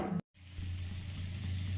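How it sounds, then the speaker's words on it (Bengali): A spice masala of Kashmiri chilli, coriander, cumin and chicken masala powders frying in oil in a pan, a soft low sizzle resuming after a brief silent gap, with no voices. "এই দিয়ে মশলাটা ভালো করে কষিয়ে নিচ্ছি।"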